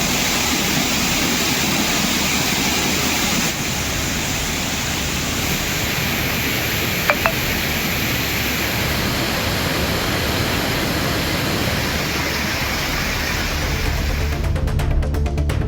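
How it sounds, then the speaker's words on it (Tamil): Thirparappu waterfall pouring heavily after flooding during a cyclone, a dense, loud, unbroken roar of falling water that holds steady throughout with no voices. "திருப்பரப்பு அருவியில் தொடர்ந்து தண்ணீர் ஆர்ப்பரித்து கொட்டுகிறது"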